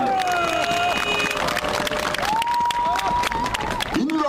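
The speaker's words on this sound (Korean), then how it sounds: "박수 한번 쳐봐요." Crowd at a large outdoor political campaign rally in Jeonju, North Jeolla, clapping and cheering loudly and continuously, mixed with shouting voices and tonal sounds over a dense, busy crowd noise.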